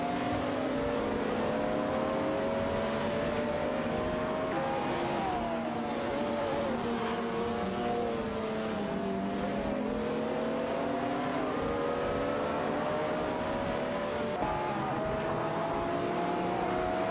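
Engines of race cars, a Lamborghini Diablo VT among them, whine and rev continuously in an AI racing video game, with overlapping rising and falling tones from a tight pack, loud and sustained with no break.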